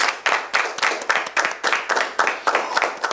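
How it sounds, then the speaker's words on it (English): Audience at a televised accountancy quiz game show final giving a round of applause, rhythmic unified clapping in regular pulses, steady and fairly loud. "Can you please give yourself a round of applause?"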